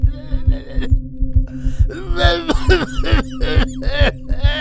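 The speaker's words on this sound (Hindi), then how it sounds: "जो बुरी तरह खांस रहा था" An old man coughing badly in an audio drama, with harsh, repeated rasping coughs over a steady, loud, rhythmic heartbeat-like thumping and a low hum.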